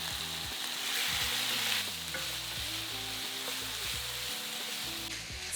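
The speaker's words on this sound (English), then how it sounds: "Then add the remaining beef to the frying pan." Beef pieces browning in a hot frying pan for a slow cooker curry, with a steady loud sizzle and crackle of frying and occasional stirring scrapes, no talking.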